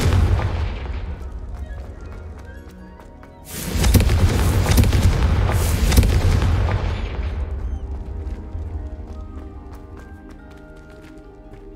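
A fiery Confringo blast spell explodes in the Hogwarts Legacy video game with a loud, roaring boom that swells suddenly and then rumbles and decays over several seconds, heard alone with no talking.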